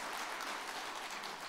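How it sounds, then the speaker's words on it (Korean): Steady applause from a church congregation during a Korean sermon, a dense wash of clapping hands that fills the whole brief moment without letting up. "박수 한번 칩시다"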